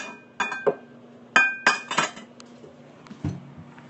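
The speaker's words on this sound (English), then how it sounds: "So I think I'll get a big microwave-safe bowl for all this." A big microwave-safe glass bowl is handled in a kitchen, giving several sharp clinks and knocks in quick clusters, close and fairly loud, with a last thud near the end and no talking.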